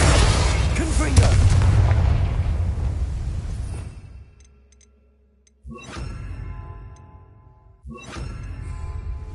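Blasting-spell explosions in the video game Hogwarts Legacy: a loud, booming blast that rumbles and decays into near silence, then two sharper explosive bursts a couple of seconds apart, each with a ringing tail.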